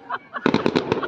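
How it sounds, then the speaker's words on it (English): Fireworks burst on New Year's Eve in a fast, loud cluster of crackling pops after a brief quieter lead-in, close and sharp. "but we've got a fucking good fireworks show"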